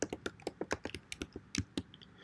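Fingers type on a computer keyboard in a quiet room, a quick, uneven string of light, crisp key clicks up close.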